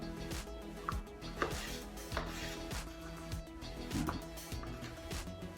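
A chef's knife cuts potatoes on a board in a quick run of sharp, close chopping taps, roughly a dozen evenly spaced strokes with faint kitchen clatter between them.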